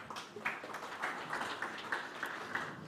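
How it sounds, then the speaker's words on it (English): Seminar audience applauding in a room, a faint, steady patter of many hands clapping that runs for a few seconds without talk. "So a quick round of applause once more for"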